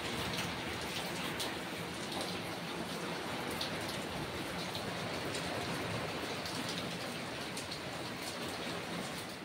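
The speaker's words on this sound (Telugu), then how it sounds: "ఎంత వర్షం పడుతుందో" Heavy rain pours steadily without a break, a dense continuous hiss with drops pattering on surfaces nearby.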